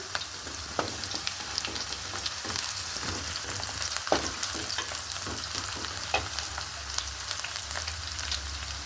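Onions with fenugreek seeds frying in a pan give a steady close sizzle, broken by intermittent stirring scrapes and small crackles with no voices.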